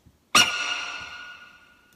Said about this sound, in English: so I found a monkey sample